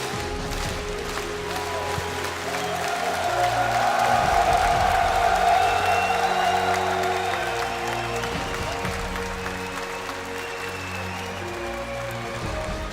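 Packed esports arena crowd at DreamHack Masters Marseille, standing, cheering and applauding, a dense sustained roar of clapping and shouts that swells in the middle and stays loud throughout.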